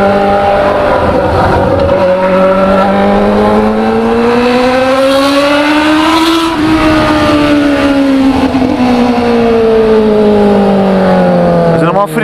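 Honda CBR600 motorcycle with a straight exhaust pipe revving hard, loud rising and falling engine tones that climb, peak, dip and climb again over several seconds, close and sustained.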